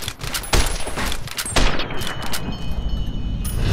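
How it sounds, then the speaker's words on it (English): Gunfire in the video game Fallout New Vegas: loud, rapid bursts of shots with sharp cracks repeating throughout, dense and continuous, close and dominant. "Come on, just shoot at him."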